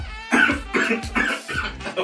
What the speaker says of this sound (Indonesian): Ada yang batuk.